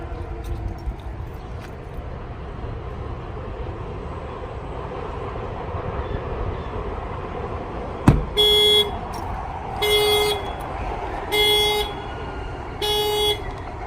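A sharp bang on the window of a Hyundai Elantra sets off its alarm, fitted with an aftermarket shock sensor, which answers with a series of loud, evenly spaced electronic chirp bursts against quiet outdoor background noise.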